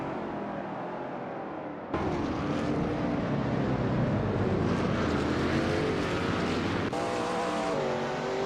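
Shelby Mustang GT350R race cars in a racing video game at Sebring roar at full throttle, a loud sustained engine drone that jumps in intensity near two seconds and shifts gear near seven seconds, with no talk.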